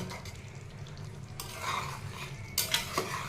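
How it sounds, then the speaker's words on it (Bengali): A spoon stirs thick restaurant-style chilli chicken gravy, thickened with cornflour, in a pan, with soft scraping and clinks against the metal growing louder toward the end. "এবার এটাকে নাড়িয়ে দেবো যাতে গ্রেভিটা ঘন হয়ে যায়"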